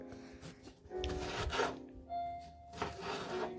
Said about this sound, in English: I'm going to cut that in half again. That way I can get to this part of the pepper more.